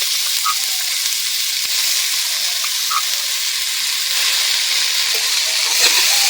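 Red amaranth greens dropped into hot oil with turmeric produce a loud, steady frying hiss close by, with faint stirring and a couple of small chimes or clinks.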